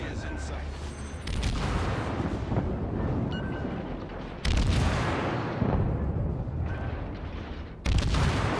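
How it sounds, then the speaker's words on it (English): Destroyer guns pound a Colorado battleship in World of Warships, with dense rumbling naval gunfire and repeated heavy booms that jump sharply in level several times. A voice talks under the battle din. "I'm popping my smoke and start shooting down this Colorado"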